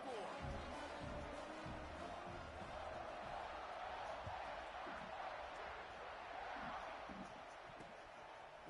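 A large football stadium crowd at an Oklahoma versus Ohio State game keeps up a steady, dense roar and murmur, with scattered shouts rising out of the continuous wash of noise.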